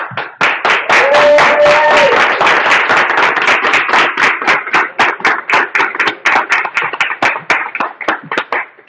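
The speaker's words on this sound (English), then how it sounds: "please give your best clap for Seth" Enthusiastic clapping from a slam poetry audience on opening night, loud and close at first, then thinning into fewer, distinct individual claps toward the end.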